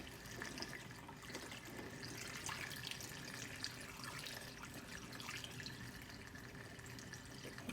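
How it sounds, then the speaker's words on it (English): Liquid pours steadily into a measuring bottle, a faint continuous trickle and splash with small drips, heard alone without talk. "I'm gonna pour it all the way up to that top line."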